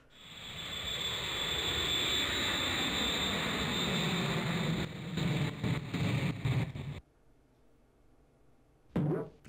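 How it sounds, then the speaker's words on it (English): A video-game plane roars with a steady engine drone that builds, then breaks into choppy bursts as it crashes and cuts off abruptly, followed by one last short burst. "that was just a plane crash"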